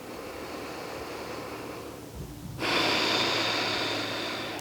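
Slow, deliberate breathing during a seated yoga relaxation: a soft intake followed by a long, airy exhale that swells into a steady breathy hiss, close and quiet.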